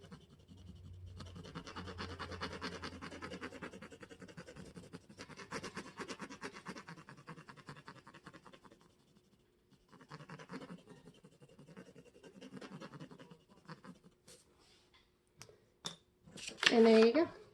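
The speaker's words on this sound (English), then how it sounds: "It's a red colored pencil. So I take that and color it in." A red colored pencil scratches across paper in long bursts of rapid back-and-forth strokes, pausing between passages, ending with a few louder taps and handling noises.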